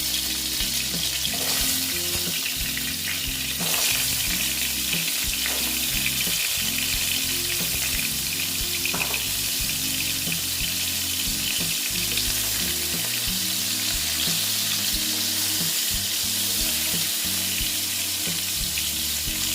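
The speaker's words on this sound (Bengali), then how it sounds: "তেলটা প্রায় গরম হয়ে গেছে এবার আমি পটলগুলো দিয়ে দিচ্ছি তেলের মধ্যে" Pointed gourd pieces fry in hot oil with a loud, continuous, dense sizzle close up, with a few faint knocks underneath.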